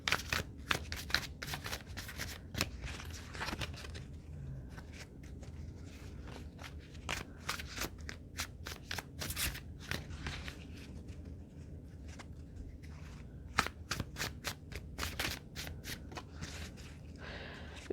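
Spirit Song Tarot cards are shuffled close up, a long run of rapid papery riffles and snaps that bunch into dense bursts and then thin out, with no voices.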